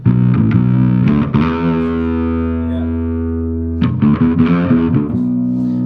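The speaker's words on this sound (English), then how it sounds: "You've got two distortion circuits in the amp, which is nice" Distorted electric guitar through one of an amp's two distortion circuits, based on Microtubes, chords played and left ringing with a thick, gritty sustain, then struck again in short bursts.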